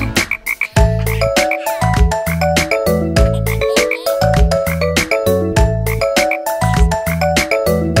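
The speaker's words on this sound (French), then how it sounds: "Restait deux grenouilles vertes mouchetées," Green spotted frogs croak in a cartoon-style children's song, the loud, rhythmic croaks repeating steadily over bright musical backing for the whole stretch.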